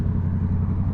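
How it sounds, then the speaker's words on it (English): Motorcycle engine with a big loud aftermarket exhaust, heard close up as a steady, deep rumbling drone with a strong low pulse throughout, no clear rise or fall. "he's revving"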